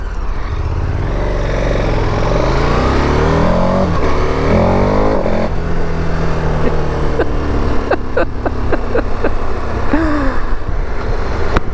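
A 2021 KTM 1290 Super Adventure S motorcycle accelerates hard, its engine note climbing through the gears under loud wind rush, heard close from the rider's position.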